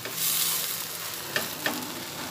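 Bread upma fries in a hot pan, a continuous bright sizzle broken by two soft scrapes of a spoon stirring it.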